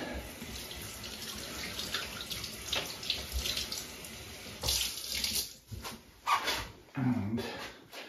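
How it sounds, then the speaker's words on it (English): Running tap water pours steadily over hands being rinsed at a sink, with splashing bursts and shifts in the flow as the hands move under the stream, close and fairly loud throughout. "get my hands a rinse."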